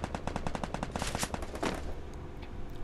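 Rapid automatic gunfire bursts in the Free Fire video game, a fast rhythmic string of close, loud shots for about two seconds before tapering off into fainter scattered distant shots.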